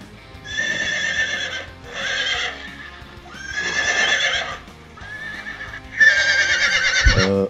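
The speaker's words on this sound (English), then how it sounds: "don't listen to these horses, they don't know what they're talking about" Horses neighing outdoors, several loud whinnies in separate bursts close by, with some hoof clopping between calls.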